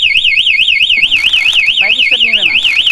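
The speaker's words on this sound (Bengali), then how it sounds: "বাইক স্টার্ট নেবে না এবং বিকার আকারে অ্যালার্ম দেবে।" A TASSLOCK GPS tracker anti-theft alarm on a motorbike wails loudly with a rapid, rising and falling electronic siren tone, continuous throughout, while brief background voices and noises sound faintly underneath.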